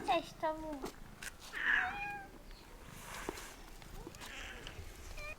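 Cats in a Cypriot village meow several times in rising, whiny calls over a background of soft ambient noise, with a person talking quietly nearby.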